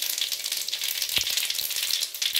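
Cardamom pods, bay leaf and cumin powder sizzle steadily in hot frying oil, a close, continuous hiss broken by a few small pops and crackles.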